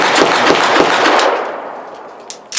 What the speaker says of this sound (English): Next gun I'm going to shoot is a Ruger LCP.